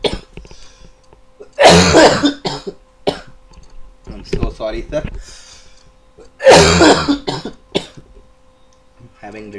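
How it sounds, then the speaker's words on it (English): A few harsh coughs break out between stretches of a man's speech, loud and close, with bursts around the two- and six-second marks. "having little cough actually."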